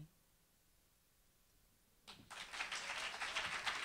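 Audience applause for poet Natalie Doggett at a spoken-word event starts abruptly after a quiet pause and builds into sustained, dense clapping from a crowd.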